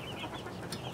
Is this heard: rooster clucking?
yes